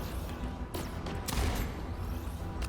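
Sniper rifle shots in the video game Deadzone: Rogue crack out two or three times in close succession over a dense layer of game noise and low rumble.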